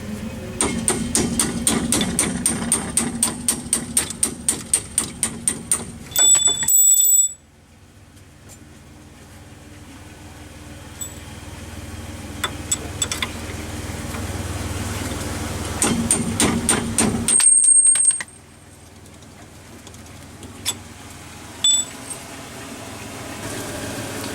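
A punch struck with a hammer to drive out the upper rear strut bolt on a 2002 Pontiac Grand Am, heard as a fast run of sharp metallic blows, a second burst later and a few isolated taps, with no talking.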